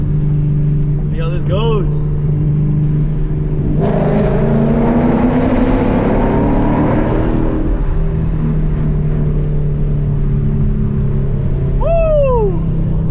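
A Dodge Hellcat revs hard inside a tunnel during a car rally, a loud roaring blast that swells for several seconds and then fades back to a rumble. Brief talk comes before the burst and engine whines bracket it.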